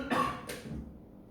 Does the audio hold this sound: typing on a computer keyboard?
no